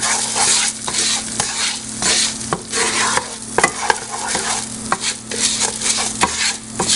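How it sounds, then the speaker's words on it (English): Rice and butter sizzle in a pan for risotto while a spoon stirs and scrapes through them. The frying hiss stays loud and close throughout, with the scraping strokes coming in a rough, repeating rhythm. "Stirring is a big part of making risotto."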